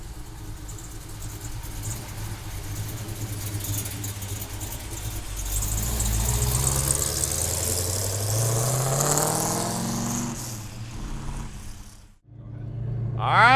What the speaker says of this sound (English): HEMI 69 Charger time